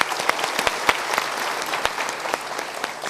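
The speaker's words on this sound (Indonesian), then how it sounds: "Kita berikan tepuk tangan sekali lagi." A live audience gives steady, dense applause with a few sharp individual claps standing out, heard close and continuous throughout.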